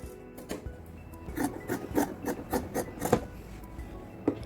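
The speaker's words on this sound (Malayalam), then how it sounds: "ഇനി നമുക്ക് ഈ പീസ് കട്ട് ചെയ്ത് കൊടുക്കുക." Scissors cut a fabric piece for a churidar-cut nightie neck, a series of close, rhythmic crisp snips and rustles.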